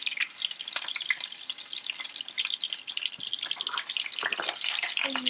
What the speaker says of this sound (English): As you can see, the oil is popping off.